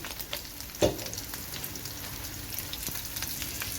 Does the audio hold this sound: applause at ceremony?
no